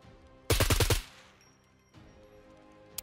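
A suppressed gun in the survival game Scum fires a quick automatic burst of about six muffled thumping shots, loud and close, followed by a faint mechanical rattle and a single small click.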